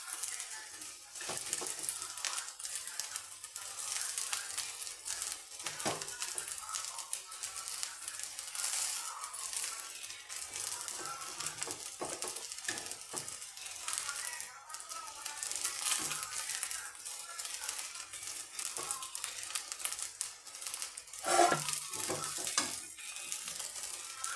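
Cooked rice tipped into a pan of vegetables and stirred, giving a faint continuous scraping and light sizzle with occasional soft clinks, steady and close.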